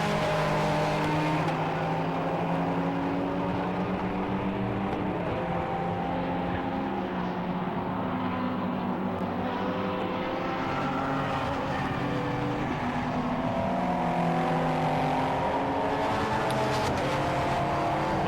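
GT cars lap Silverstone in a Britcar endurance race, including an Aston Martin, a Porsche and a Lamborghini. Engines roar and whine steadily for the full stretch, with overlapping tones from several cars and no talking.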